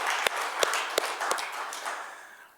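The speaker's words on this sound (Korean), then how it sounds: "하나님께 영광의 박수를 크게 한번" A church congregation applauds in a large room, with a few sharp, evenly spaced claps standing out before the clapping fades away.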